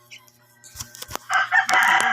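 Rooster crows loudly nearby at early-morning feeding time, one drawn-out cock-a-doodle-doo following a few short clucks and thumps, over a low steady hum.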